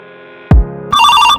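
A telephone rings with a loud, bright electronic ringtone right up close. It starts after a dull thump and keeps going steadily, with no voices.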